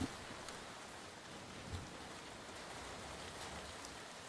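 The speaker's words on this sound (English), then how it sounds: "You heard raindrops and a reload." Steady rain falls in a competitive online shooter match, a dense, even hiss of raindrops throughout with a few faint sharper ticks, no voices over it.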